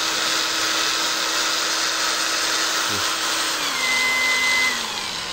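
An APR AP22 Pro cordless battery grinder runs steadily with a loud, high motor whine, close up, then its pitch steps down as the speed setting is changed.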